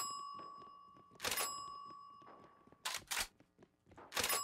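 Cash registers are punched for money in the video game Radical Heights, giving sharp, loud thunks at irregular intervals over a steady electronic tone and a ringing ding.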